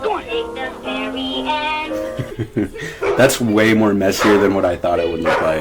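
A dog performing barks on a movie set, short sharp barks and yelps mixed in among people talking nearby.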